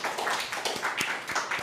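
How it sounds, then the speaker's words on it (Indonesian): Scattered hand clapping for a second student group in a classroom, a few uneven claps at close range with no talking over them. "Oke, terima kasih untuk kelompok yang kedua, koperasi. Berikan tepuk tangan."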